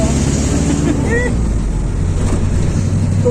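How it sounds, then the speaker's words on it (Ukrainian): A passenger ride inside an Egyptian minibus in Hurghada, with a steady loud engine and road rumble filling the cabin throughout, wind buffeting, and faint voices talking in the background. "І ви з нами їдете в шикарній маршрутці єгипетській."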